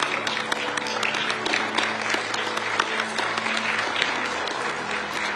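Sustained applause from a room full of journalists at a presidential press conference, dense and steady clapping throughout without any voices standing out.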